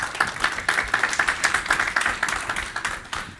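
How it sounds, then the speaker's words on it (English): Conference audience clapping in a brief burst, fairly close, with an uneven patter of individual claps for a few seconds. "I think you earned a really huge applause for the perfect organization."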